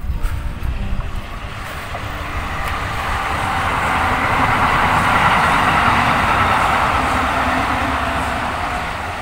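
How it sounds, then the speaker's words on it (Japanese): A Kintetsu local commuter train passes near Suzakumon gate at the Heijō Palace site in Nara, a broad steady rumble that swells to its loudest mid-pass and then eases off, with some wind buffeting the microphone. "電車がね、また普通の近鉄電車が、通過していきましたね"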